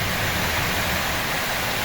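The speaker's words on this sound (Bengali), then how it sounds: "সুন্দর বৃষ্টির শব্দ" Steady broadband hiss of rain pouring during a Nor'wester (kalbaishakhi) storm, continuous and fairly loud with no talk over it.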